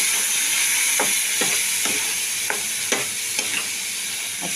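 Soaked spice paste hits a hot pan with mustard seeds and fried garlic for a Bihari-style rohu fish curry, sizzling steadily while a spoon scrapes and stirs in several distinct strokes.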